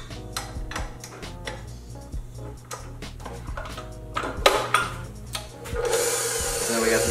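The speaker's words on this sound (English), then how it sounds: "So we got this dough hook cranking." A stand mixer's dough hook kneads pumpkin dough, a steady low motor hum with rhythmic knocking and rubbing of the dough, growing louder and rougher toward the end, with brief voices in the background.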